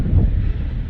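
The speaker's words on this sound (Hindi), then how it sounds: "हवा चलती हुई, लेग साइड काफ़ी तेज" Wind at an outdoor cricket match buffets the microphone in a steady low rumble with gusty swells, loud and close, with no voices.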